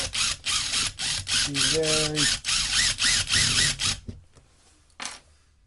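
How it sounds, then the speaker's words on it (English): A power drill whirs in short repeated bursts, close and loud, biting through a fiberglass saxophone case, then stops, leaving near silence with a brief knock. "going to drill a hole."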